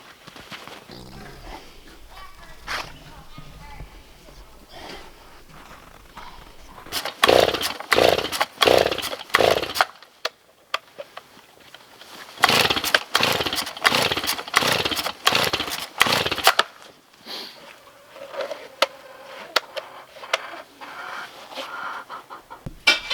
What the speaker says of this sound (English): my chainsaw doesn't want to cooperate with me at all